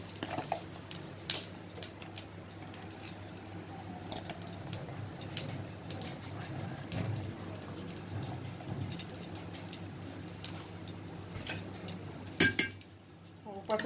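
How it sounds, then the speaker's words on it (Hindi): Ghee goes into a hot pan while cooking a dish at home, giving a steady low sizzle with light clinks of metal utensils and pans throughout, and a sharper clatter near the end. "अब मैं इसमें थोड़ा सा घी डाल दूंगी गरम गरम में"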